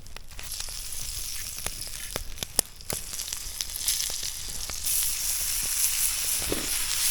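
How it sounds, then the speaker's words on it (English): Moose bologna sizzles steadily in a cast iron pan, a close, continuous frying hiss with scattered sharp pops and crackles throughout. "Let's get this into the frying pan."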